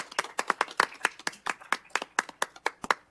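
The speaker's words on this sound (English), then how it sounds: "Let's get a hand of applause for that." A small council meeting audience gives a brief round of applause, a sparse handful of sharp, distinct claps spaced out in an uneven rhythm, close and clear against a quiet room.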